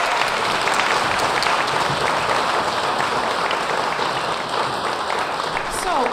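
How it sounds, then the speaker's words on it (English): An audience at a spring choir concert applauds steadily for the choir, a dense, sustained clapping that fills the whole stretch at even loudness. "Can we give them another round of applause?"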